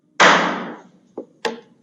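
A wooden auctioneer's hammer strikes once to close a sale at a property auction, giving one sharp, loud knock with a short decay, followed by two lighter taps, with no voices over it.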